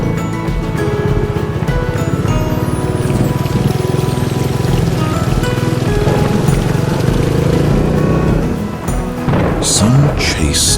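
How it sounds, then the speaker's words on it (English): Heavy rain with rolling thunder during a motorcycle ride, a dense, loud, continuous wash of rainfall with low rumbling underneath and a brief sharper burst near the end. "the sound of the rain."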